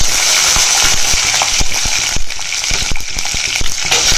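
Small onions (shallots) hit hot oil already browning fenugreek, giving a loud, close, hissing sizzle with crackles and spatters throughout.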